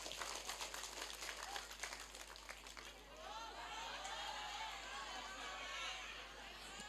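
Applause from a crowd at a community religious gathering in Cigugur Kaler, a steady wash of clapping mixed with crowd chatter and cheering voices, rising after a few seconds and continuing to the end.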